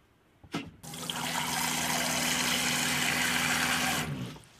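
Water gushes steadily from a newly installed tap in a camper van build, starting with a click and running loudly for about three seconds before stopping.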